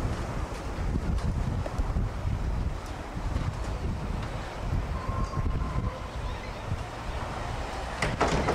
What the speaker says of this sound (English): this is the outside where the wind is blowing very, very strong.